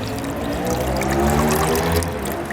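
Wet sand and water pour steadily out of a sluice container during black sand prospecting, a continuous close splashing gush that runs the whole time without talk.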